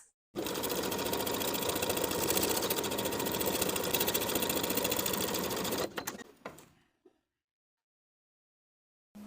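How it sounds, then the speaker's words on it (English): A sewing machine runs at a steady, fast clatter for several seconds, understitching a seam allowance on linen shorts, then slows and stops with a few clicks before silence. "we're going to understitch the seam allowance, sewing it to the facing with about 1/8 inch seam allowance straight across"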